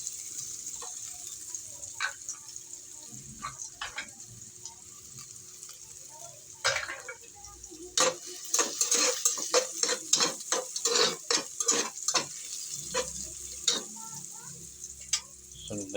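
Garlic sizzles in hot oil with onion while sautéing for chicken tinola, a steady hiss broken by sharp crackles and stirring clicks that grow busier near the middle.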